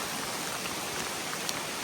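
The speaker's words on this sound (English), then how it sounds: "it's raining pretty good right now" Steady rain falls through a forest in the mountains during a hike, a soft, even patter of drops on leaves, close and continuous at low volume with no voices.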